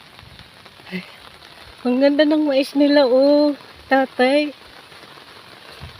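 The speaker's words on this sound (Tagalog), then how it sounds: "naririnig niyo ba yung patak na ulan?" Light rain patters steadily in the background on a rainy countryside walk, soft and constant, while a person speaks over it for a few seconds.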